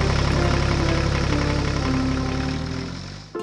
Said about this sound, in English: The tractor moved towards the field, its engine purring steadily.